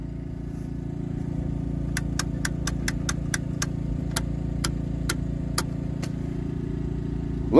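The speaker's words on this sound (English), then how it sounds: "Look like World War II 12-volt generating set" A small World War II 12-volt two-stroke generating set engine runs steadily at idle, a low continuous drone with a regular series of sharp ticks layered over it, close by and without speech.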